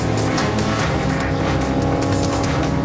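A Mazda RX-7 land-speed race car tears along near 225 mph, a loud continuous engine scream with rushing wind and tire noise throughout.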